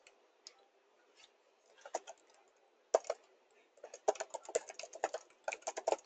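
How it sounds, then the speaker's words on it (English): Computer keyboard keys tapped in short irregular bursts, quiet and close, with brief pauses between clusters of keystrokes and no voices. "I'm just going to type"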